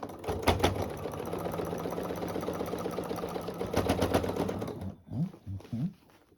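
Sewing machine stitching a seam on a small quilted mini runner, a close, steady mechanical whir with rapid needle rhythm that stops abruptly, followed by a few softer clicks and handling sounds.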